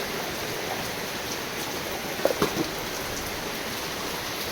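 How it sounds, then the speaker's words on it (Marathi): Steady rain falls outside during a continuous monsoon downpour, a constant even hiss with a few brief louder drips or taps midway, no talking. "बाहेर पाऊस बघ किती लागेल कंटिन्यू पाऊस पडताच"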